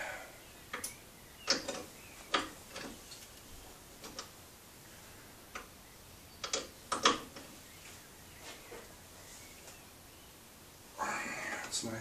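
Ratcheting clicks from a torque wrench on a long extension and socket, tightening front mount bolts on a BMW E31 840Ci during an EV conversion; quiet irregular ticks in short bursts, then a louder rustle at the end.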